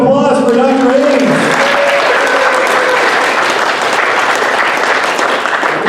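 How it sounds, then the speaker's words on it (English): An audience at a sci-fi and writing convention's opening ceremony breaks into loud, dense applause that builds after a brief voice at the start and keeps going strongly to the end. "Let's give her a big round of applause for Dr. Haynes."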